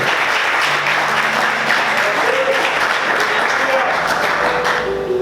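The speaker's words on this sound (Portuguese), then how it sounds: "Você pode aplaudir ao Senhor com bastante alegria?" Sustained crowd applause, dense and loud throughout, with faint voices and a soft musical tone underneath.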